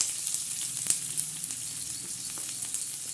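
Chopped onion frying in a pan for a spicy Marathi-style green chilli and tomato thecha, giving a steady close sizzle with faint crackles and no talking.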